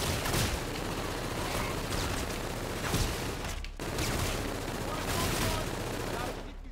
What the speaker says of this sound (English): This is another shotgun, no shot, right?